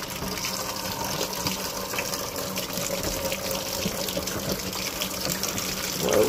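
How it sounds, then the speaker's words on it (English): Hot soapy water runs steadily from a kitchen faucet into a sink, a continuous close gush that swells slightly louder near the end. "get some hot soapy water going"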